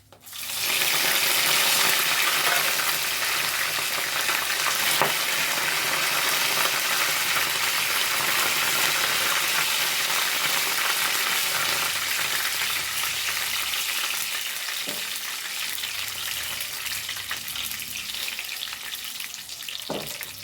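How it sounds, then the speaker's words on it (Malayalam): Dried red chilies, curry leaves and green chilies fry in hot oil with a loud, steady, close-up sizzle that holds throughout and fades slightly near the end, broken by a few faint stirring taps. "പച്ചമുളകൊന്ന് നല്ലോണം മൂക്കട്ടെ"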